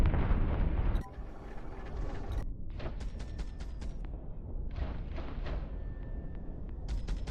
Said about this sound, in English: Spinal cannon fire.